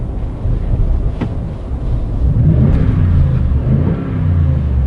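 A 2016 Toyota Tundra TRD Pro pickup truck's engine revs up with a deep exhaust rumble, close and loud, rising and holding over a few seconds.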